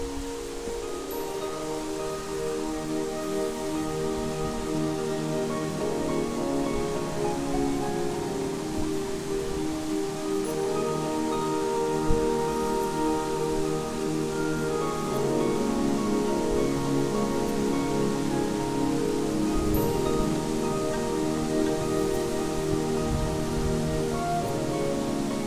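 A waterfall in the Ötschergräben gorge roars as a steady, even broadband rush of falling water, constant and fairly close, with no voices.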